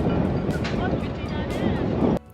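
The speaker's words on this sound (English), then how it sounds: "it's bloody windy up here" Heavy wind on a high lookout in Torquay buffets the microphone in loud, continuous rumbling gusts, cutting off abruptly at the end.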